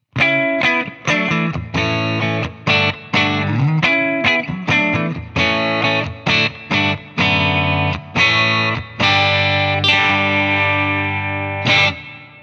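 Electric guitar through a Fender Tone 3.0 clean preset, played alone as a series of ringing chords and single notes with short pauses between them, loud and close.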